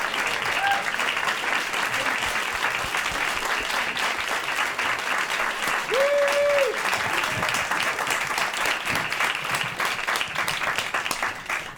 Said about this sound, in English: Please give him a huge round of applause and thank him for being here.